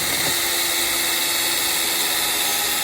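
A cordless drill drives a deck screw into a board with a steady, close motor whine that holds level for a few seconds.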